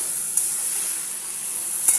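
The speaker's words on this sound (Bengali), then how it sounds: "একটু জল দিয়ে আমি কষিয়ে নিচ্ছি" Spices sautéing with a splash of water in a pan, a soft steady sizzling hiss with two faint clicks of a utensil, no voices.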